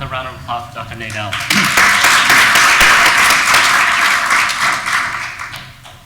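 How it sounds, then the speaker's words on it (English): Audience applause after a talk on microaggressions, clapping swelling quickly after a voice and continuing steadily before fading slightly. "Let's give another round of applause to Dr."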